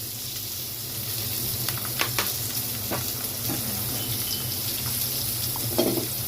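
Garlic and ginger paste fries with browned onions in a pan for a beef curry, giving a continuous close sizzle broken by scattered stirring clicks and scrapes.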